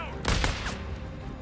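In Days Gone, a sniper's gunfire cracks twice in quick succession at moderate distance, sharp reports over a busy game background.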